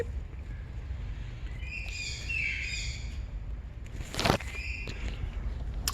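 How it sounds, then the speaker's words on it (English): Several birds chirp and trill in bursts over a steady low rumble of background noise, with a brief sharp clatter near the end. "Them's the birds that you always hear screaming in the background."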